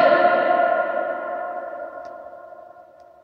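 A single shout rings out in a large, empty school hall and its long reverberant tail lingers and slowly fades over about three seconds, with no talk.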